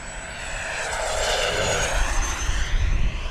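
An E-flite SU-30 twin 70mm electric ducted-fan RC jet makes a low, fast pass, its steady whooshing turbine-like whine holding loud and close before rumbling slightly as it goes by.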